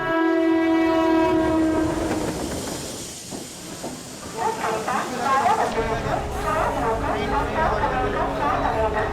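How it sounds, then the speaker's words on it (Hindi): An express train passes through Borivali railway station in Mumbai. A long, loud horn blast gives way to the heavy, hissing rumble and rhythmic rattle of the carriages going by, with voices faintly mixed in. "प्लॅटफॉर्म क्रमांक 1 च्या किनाऱ्यापासून दूर उभे राहा। एक जलद गाडी जाणार आहे।"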